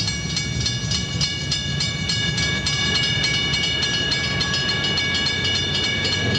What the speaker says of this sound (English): At Santa Barbara, the northbound Starlight arrives at the station.